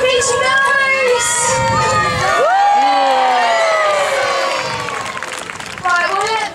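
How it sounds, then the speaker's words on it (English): Loud crowd of children and adults cheering, whooping and shouting at a zoo bird show for Salt the bird, a dense burst of excited voices with high squeals that swells, dips slightly, then rises again. "They need to cheer really loud for her"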